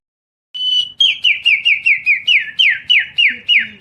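A boy imitates the song of a magpie robin (murai) with his voice, giving about a dozen quick, bright whistled phrases in a steady repeating rhythm, close and loud with no other sound.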